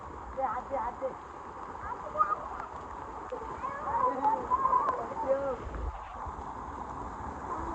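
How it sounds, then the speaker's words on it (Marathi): A village waterfall near a river roars as a steady wash of rushing water, with wind buffeting the microphone and people talking excitedly close by over it. "आहे आपल्या पेंडक्याच्या वाडीचा धबधबा"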